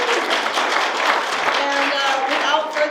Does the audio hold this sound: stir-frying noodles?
no